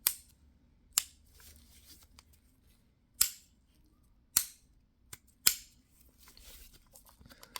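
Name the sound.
safety lever clicking into position on Tisas MAC 9 DS pistol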